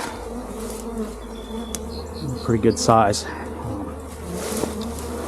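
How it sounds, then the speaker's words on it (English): A large swarm of bees gathered outdoors on a farm, a steady low buzzing hum with brief louder passes of nearby insects, while someone talks intermittently over it. "It's a hell of a swarm of bees"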